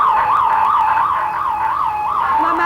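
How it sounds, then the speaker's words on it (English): A school seismic alert alarm wails continuously with a rapid, even warble that rises and falls several times a second, loud and close, with no speech. "The seismic alarm system is currently being tested in 26 schools."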